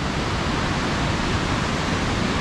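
Small mountain stream in the Caucasus of North Ossetia, a dense, steady rush of flowing water close by with no voices.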